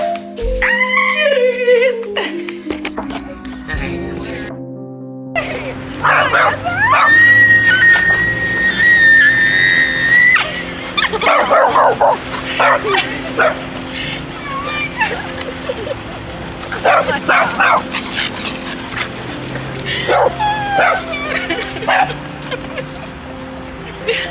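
Puppies meeting their owner after an overseas flight from Florida to Colombia bark, yip and whine in high, squeaky bursts, overlapping busily with whistly whimpers throughout, close and loud, mixed with chatter.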